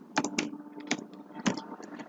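Typing on an English-layout computer keyboard, a few sparse key presses and clicks with pauses between, quiet and close.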